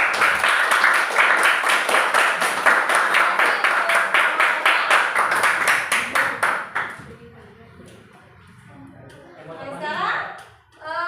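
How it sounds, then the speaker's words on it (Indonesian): Students in a classroom clap for classmates who have just presented their work, a steady fast burst of clapping for about seven seconds that then stops, followed by a teacher's voice speaking. "Berikan tepuk dulu untuk yang sudah menyajikan hasil karyanya."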